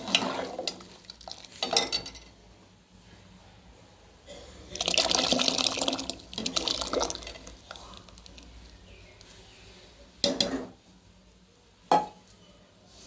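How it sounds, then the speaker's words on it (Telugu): Ragi porridge (ambali) being stirred in a pot as liquid is poured in slowly, with wet swishing and scraping in several bursts, a long stretch near the middle, then short clinks of a spoon on the pot; no talking. "ఇది చిన్నగా పోసుకుంటూ కలుపుకోవాలి సన్నగా పోసుకుంటూ ఇట్లా బాగా కలుపుకోవాలి"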